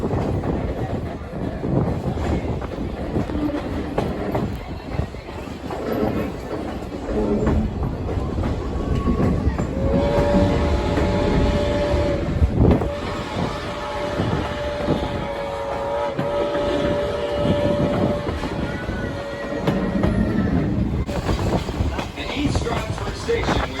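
Strasburg Railroad passenger train running steadily, with rumbling wheels and a sustained tone from about ten to twenty seconds, heard close and continuous under faint talk.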